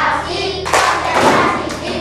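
A group of people in a classroom claps the patterned concentration clap together: a few quick, close bursts of hand claps, with a dull background in between.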